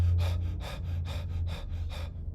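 A voice imitates heavy, gasping breathing of a badly wounded man, with about five rhythmic, loud inhale bursts in quick succession, close and alone.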